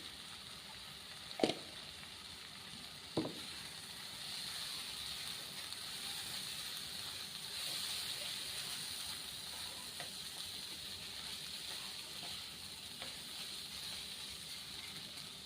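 Coriander powder and turmeric frying in a pan, a soft steady sizzle at moderate distance with two sharp utensil knocks early and occasional faint clicks.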